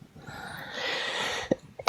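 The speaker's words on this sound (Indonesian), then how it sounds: "Mohon maaf batuk" A person coughs in the middle of a Bible reading, with a breathy rasp followed by two short, sharp bursts, close and fairly loud.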